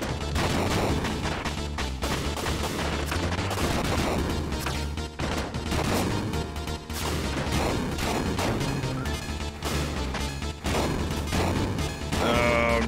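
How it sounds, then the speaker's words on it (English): Giant robot-sized artillery pounds away in the Super Famicom mech game Front Mission: Gun Hazard. A dense, continuous barrage of blasts and crashes runs under the game's soundtrack, loud throughout. "Getting shot with, like, giant robot-sized artillery."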